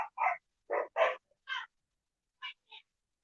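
Dogs give a run of short, sharp barks and yelps, several quick bursts close together, then a pause and two more clipped yaps, fairly near and alone without talk.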